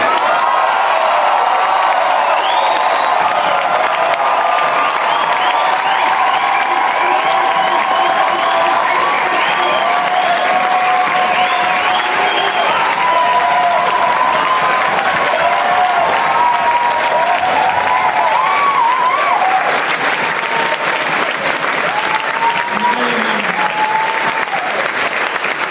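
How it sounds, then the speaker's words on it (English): A crowd at an election victory speech breaks into loud, sustained applause, dense clapping rolling on for the whole stretch with scattered cheers and whoops above it. "I just want you all to give them 3 years worth of applause."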